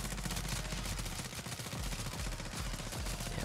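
Rapid automatic gunfire from an ISO 45 submachine gun in MW3 Zombies, a dense, loud, continuous burst of shots with booming low-end thumps throughout.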